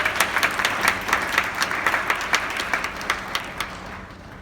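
Audience applause at a school chapel welcoming a student speaker, a steady wash of many hands clapping indoors with sharp individual claps standing out, fairly close and sustained, tapering slightly toward the end.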